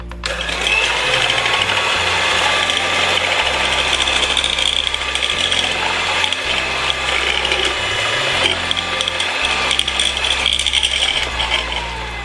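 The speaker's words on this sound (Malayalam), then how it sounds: "ഇത് നമ്മളൊരു എഗ് ബീറ്റർ കൊണ്ട് നന്നായിട്ടൊന്ന് ബീറ്റ് ചെയ്യണം" An egg beater whirs loud and continuously, beating a milk and flour mixture in a large bowl with a steady mechanical drone and a faint rhythmic pulse underneath.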